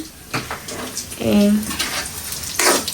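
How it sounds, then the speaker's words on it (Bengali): Snacks fry in a pan with a moderate crackling sizzle, broken by stirring scrapes and swells of spitting oil, while a voice briefly speaks nearby. "এদিকে ভাজা হচ্ছে"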